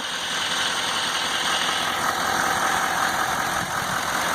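A 2015 GMC Sierra 3500 HD dually with a 6.6 liter Duramax diesel engine idles steadily, producing a loud, continuous rumble and clatter heard up close with no talking.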